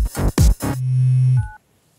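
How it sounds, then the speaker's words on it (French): A phone text message notification tone plays as a quick electronic melody of a few tones, then a held buzzy note and a short two-tone beep, close and clear with nothing else heard. "T'as un message?"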